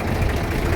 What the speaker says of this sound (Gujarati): આપણું ટ્રેક્ટર 3 ટાયર ઉપર હાલતું હોય છે